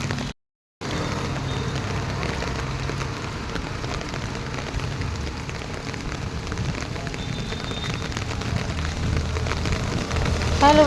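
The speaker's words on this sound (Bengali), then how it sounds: "আজকে সকাল থেকে যে পরিমাণে বৃষ্টি, মনে হচ্ছে না যে বৃষ্টি কমবে" Heavy rain falling steadily on surfaces during a downpour, a dense continuous patter at moderate volume, with a brief cut near the start and a slight rise toward the end.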